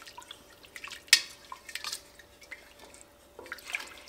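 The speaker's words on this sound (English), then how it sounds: "I'm actually just going to use a whole quart of my home canned beef broth." Home-canned beef broth pours and drips into a pot in a kitchen, a few close splashes and trickling drips, fairly quiet and alone without any talking.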